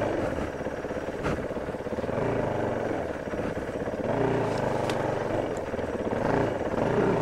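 A Yamaha WR450F dirt bike engine rumbles and revs out in the woods, a steady loud drone swelling with throttle blips throughout.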